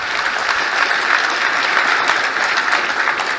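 An audience at a generative AI customer service demo applauds, a dense, steady wash of many hands clapping at close range, sustained and even throughout with no talking over it.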